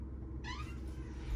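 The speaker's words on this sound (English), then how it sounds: "Kitty cat knocking on the door. Gotta let her in. Because if you don't, she'll cry." A cat at a door gives a short close meow over a low rumbling room background.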